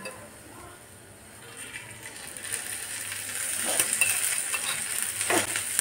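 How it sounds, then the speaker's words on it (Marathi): Onion frying in a little oil in a pan while being stirred, a soft steady sizzle that grows louder toward the end, with occasional scraping strokes of the spatula. "तर आता आपण यामध्ये घालणार आहे थोडंसं तेल, म्हणजेच कांदा जो आहे तर तो आणखी छान फ्राय होईल।"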